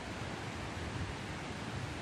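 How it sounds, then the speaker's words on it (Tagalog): Strong, cold wind roars outdoors at Bubuludtua Falls in Parang, Maguindanao, a dense, constant rushing noise buffeting the microphone with no voices. "Malakas na yung hangin, malamig."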